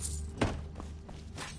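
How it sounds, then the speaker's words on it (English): Crossbow bolts thud into wooden crates in Skyrim, a sharp impact thump followed by a couple of fainter knocks, close by over a low ambient hum. "Just take a few shots at those crates over"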